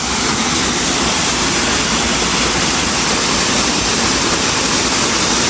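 Fresh water pours down from above in a steady, loud, unbroken roar of falling water, close by and with no voices over it.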